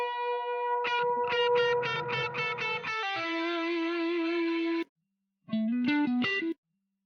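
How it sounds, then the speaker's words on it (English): Processed synth tones from the Lunacy Audio Beam multi-FX plugin, drenched in crazy reverb effects: stepped pulsing chords give way to a sustained swelling wash, a sudden cutoff into silence, then a short burst of bright rhythmic notes. "all sorts of crazy reverb effects, right? Listen to that."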